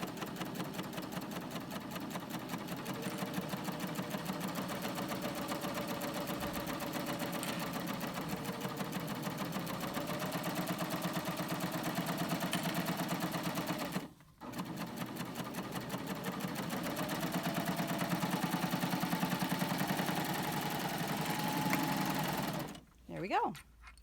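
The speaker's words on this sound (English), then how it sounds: "I am cutting a little bit off as I stitch. I always feel like my serger's happy when it's cutting." A serger stitching fabric and trimming the edge as it sews, a loud, steady rapid mechanical whir that runs almost nonstop with two short pauses, and a voice talking over it.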